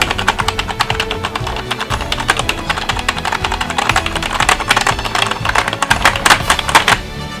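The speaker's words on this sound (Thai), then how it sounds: "กดคีย์บอร์ดดูเฉย" Fast, uneven clicking of keys on a G-VIEW K3 keyboard pressed in a dense flurry, close and continuous, over a low background hum.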